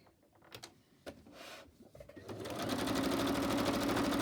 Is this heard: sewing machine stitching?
yes